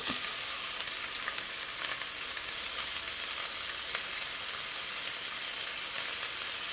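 Onions frying in about two spoonfuls of oil, an even, dense sizzle heard up close and unbroken for several seconds, with nobody speaking.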